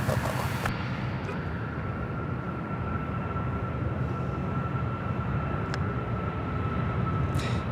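A jet airliner taking off at Charlotte Douglas International Airport gives a steady, distant broadband roar with a faint sustained whine, and a few brief clicks break through near the start and end.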